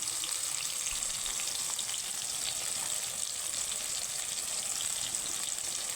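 Eggplant frying in oil over a high flame gives a constant, dense, loud sizzle that holds steady throughout, with no voices.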